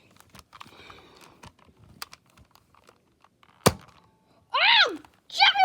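A toy Nerf gun fires a single sharp, loud snap amid quiet handling and rustling, followed immediately by a loud pained yelp and another cry.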